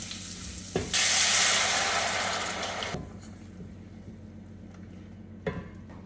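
Water poured into a pan of drumsticks with turmeric, chilli and coriander powder gives a loud burst of hissing sizzle after a clatter, fading into a quieter bubbling simmer with a couple of utensil knocks.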